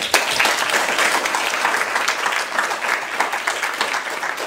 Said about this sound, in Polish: Dlatego wielkie, wielkie brawa